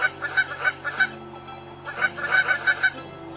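Geese in the video game Endless Migration honk in rapid repeated bursts, a flock calling loudly over a soft, steady musical drone.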